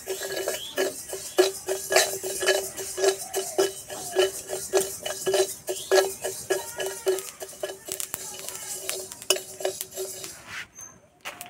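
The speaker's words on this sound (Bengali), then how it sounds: "মশলাটা শুকনো কড়াইয়ে ভেজে নেব।" A metal utensil scrapes and clinks rhythmically against a dry wok as spices roast, repeated stirring strokes at close range, quieter scrapes toward the end.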